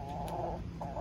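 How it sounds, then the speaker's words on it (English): A white backyard hen clucks close by, a short burst of throaty calls with a brief pause before another cluck, with no voices over it. "this is the kind of chicken that I have right here"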